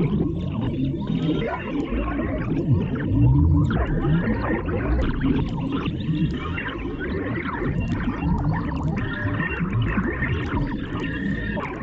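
A SynthVR synth patch droning loudly and continuously while its filters are swept, giving a growling, shifting, whale-like tone.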